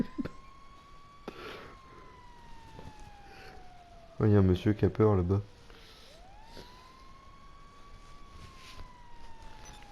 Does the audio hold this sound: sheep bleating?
no